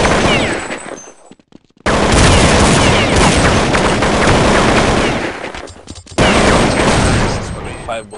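Gunfire in Counter-Strike, with loud, dense automatic bursts that break off briefly and then resume, heard up close with players talking in the background.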